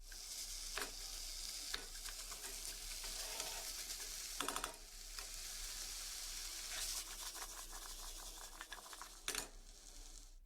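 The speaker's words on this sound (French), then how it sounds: "On peut rajouter les courgettes. Et même chose, va falloir remuer tout ça." Chicken and zucchini sizzle in a pan for a green curry, a steady frying hiss broken by scraping stirs and occasional clinks of a utensil against the pan, close and without talk.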